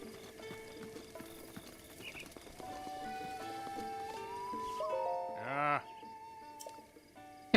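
A horse in The Legend of Zelda: Breath of the Wild whinnies and trots, with rhythmic hoof clops and a sharp neigh rising over soft game music and ambient tones.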